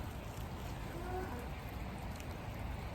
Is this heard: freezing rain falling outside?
yes